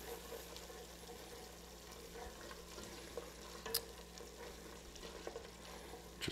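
Red chili powder being stirred into a pot, a steady scraping and mixing under a low hum, with a few sharper clinks near the end.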